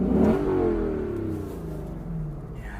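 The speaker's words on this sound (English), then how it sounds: "It's all about the exhaust." A 2021 Lexus LC 500 Convertible exhaust revs loudly with the top down, then the engine note sweeps downward and settles into a steady drone as it eases off.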